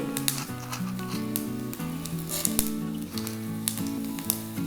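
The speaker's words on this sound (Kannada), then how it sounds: "ಎಣ್ಣೆ ಕಾಲಿದೆ ಸಾಸಿವೆಯನ್ನು ಹಾಕ್ಕೊಳ್ತಾ ಇದ್ದೀನಿ ಕಾಳು ಮೆಣಸು ಒಂದು ಹತ್ತರಿಂದ ಹನ್ನೆರಡು ಕಾಳು ಮೆಣಸುಗಳನ್ನು ಹಾಕ್ಕೊಂಡ್ರೆ ಸಾಕು ಜೀರಿಗೆ" Mustard seeds, black pepper and cumin sizzle and crackle in hot oil in a pan, a steady frying hiss dotted with small pops, heard under sustained tonal background music.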